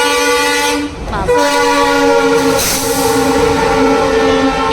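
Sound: passing train

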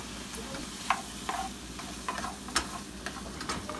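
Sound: hearts of palm cooking in a pan on the stove

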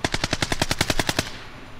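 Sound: gunshots in video game Call of Duty Cold War

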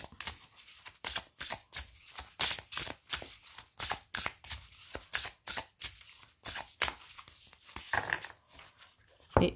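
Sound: shuffling oracle cards

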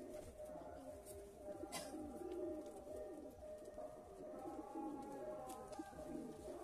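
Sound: male Kaldum flying pigeon cooing

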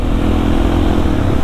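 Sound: Suzuki DRZ 400 supermoto motorcycle engine revving

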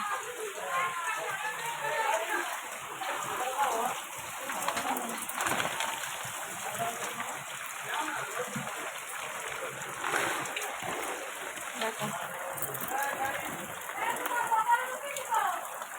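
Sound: rainwater flooding, splashing water

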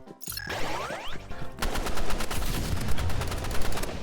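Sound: pistol gunshots in Roblox Rivals video game

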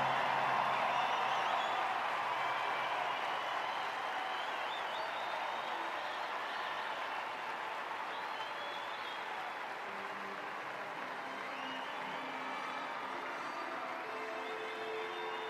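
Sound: audience standing applause for band finalists

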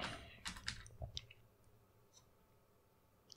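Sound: typing on a computer keyboard to search for NitroShare

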